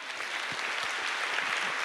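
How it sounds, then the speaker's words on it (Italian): At the Holden Start 2020 event, a seated audience applauds for Ilaria Gaspari, a short, even wash of clapping heard from a moderate distance and fairly quiet. "facciamo un grande applauso a Ilaria"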